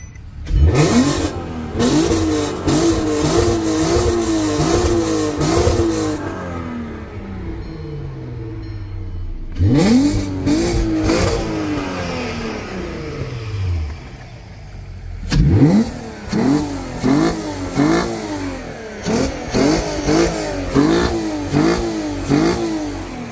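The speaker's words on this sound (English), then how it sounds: "let me rev it up for you." A 3.2-litre MK2 Audi TT Quattro engine with high-flow cats and downpipes revs hard three times, each burst climbing then falling back to a rumbling idle, followed by a series of quick, choppy throttle blips.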